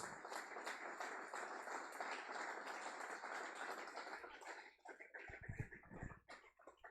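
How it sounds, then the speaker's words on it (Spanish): A church congregation applauding during a sermon, faint sustained clapping that thins out into scattered individual claps near the end. "Denle fuerte el aplauso al Señor."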